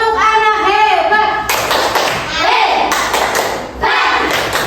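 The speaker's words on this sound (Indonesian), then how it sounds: "Tepuk anak hebat." Schoolchildren in an Indonesian classroom clap in rhythm during a 'tepuk anak hebat' chant, loud bursts of hand clapping mixed with the children's chanting voices.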